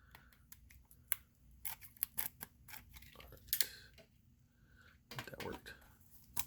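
A knife slices and picks at the plastic wrap on a Blu-ray case, close, quiet crinkling and sharp clicks in irregular bursts, with soft speech faintly underneath.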